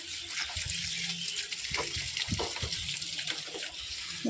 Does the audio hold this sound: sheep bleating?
no